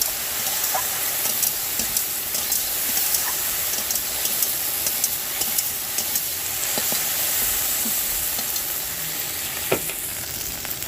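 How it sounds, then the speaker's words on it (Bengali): Okra frying in a pan with turmeric, stirred steadily: a continuous bright sizzle and hiss with soft scraping stirs and occasional light clicks, close and even throughout, no talking. "হলুদটা দিয়ে নাড়াচাড়া করতে থাকবো"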